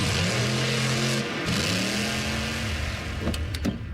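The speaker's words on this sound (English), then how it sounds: "You can even stream it at a monster truck rally." A monster truck engine at a rally revs loudly and steadily, its deep droning tone holding and shifting pitch for several seconds, with a few sharper bursts near the end.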